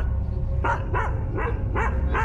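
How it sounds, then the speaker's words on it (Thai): A small dog barks five times in quick succession, sharp and close, each bark ringing out clearly over a low, steady background rumble. "และมันเห่าแบบน่ากลัวเหมือนมีอะไรบางอย่"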